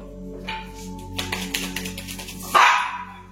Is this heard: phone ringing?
no